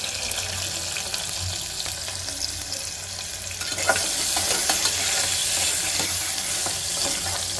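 Onion and green chillies fry in a pan for a chicken curry, a steady close sizzle with stirring that grows louder and busier midway, with no talking.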